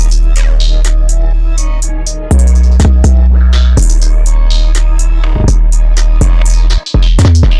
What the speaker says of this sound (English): Alright, that'll do it for that 808 pattern.